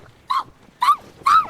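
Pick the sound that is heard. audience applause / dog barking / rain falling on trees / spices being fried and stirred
dog barking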